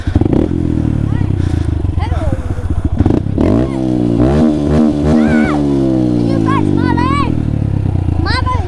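A Honda Grom motorcycle engine revs hard in repeated rising and falling bursts, close and loud, with clattering and thumps between revs and a voice briefly talking over it.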